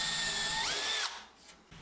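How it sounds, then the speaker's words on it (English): A power drill boring pilot holes for door hinges while French doors are fitted and hung, a loud steady whine that drops in pitch, then stops abruptly, leaving quiet room tone. "I can then mark up and drill pilot holes"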